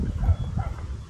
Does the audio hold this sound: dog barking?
yes